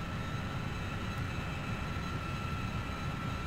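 A Yakovlev Yak-130 Mitten jet trainer in Microsoft Flight Simulator gives a steady, loud broadband engine roar with a faint whine, unbroken throughout.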